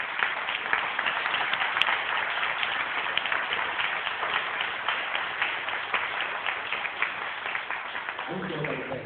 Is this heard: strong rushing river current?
no